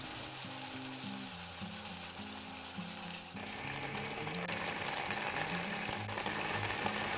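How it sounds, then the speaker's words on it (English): Pears cook in hot caramel for a pear and caramel cake, giving a steady, dense sizzle and bubbling that grows slightly fuller partway through, close and continuous with no voices. "Add the pears over and let them cook for a few minutes to release the juice and to be covered in that lovely caramel."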